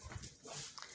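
A puppy makes soft, brief whimpers and little yips while working at a homemade biscuit ball, quiet and close, over about a second.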